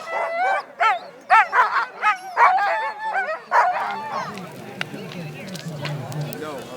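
Sled dogs at the starting line of a sled dog marathon bark, yip and whine in rapid excited bursts, loud and close, then fade into overlapping distant yelps and crowd talk.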